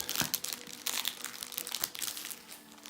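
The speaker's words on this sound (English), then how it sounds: "Coming in a nice protective cover. See how easy this is to unwrap." A yoga mat is unwrapped from its protective plastic cover, with close, bursty crinkling and rustling that comes in quick clusters and then fades slightly toward the end.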